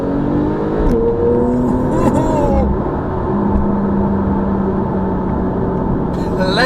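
A red Porsche 911 Carrera S (992) in Sport Plus with manual shifting accelerates, its engine note rising and falling through gears as heard from inside the cabin. The drone is steady and fairly loud, with occasional short voice sounds.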